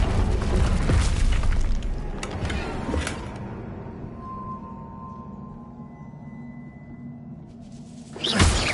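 A blasting spell strikes a barrier in a video game. A loud burst at the start rumbles and fades into quiet low hum, then a second sharp blast hits near the end.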